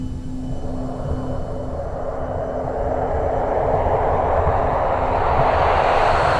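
An airliner climbing to a cruising altitude of just over 38,000 feet: a continuous engine roar with a low steady hum that slowly swells louder and brighter, with no speech over it.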